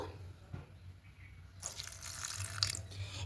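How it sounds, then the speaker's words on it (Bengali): A little water is poured into a mixer jar holding a dry mustard paste and green chillies for a Bengali aubergine dish. After a quiet start, the splashing pour comes in partway through and runs steadily, close and fairly soft. "সামান্য একটু জল দেব"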